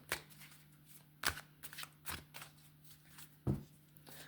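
Tarot cards are shuffled in a few quick riffling bursts with short pauses between, quiet and close-up, with no voices.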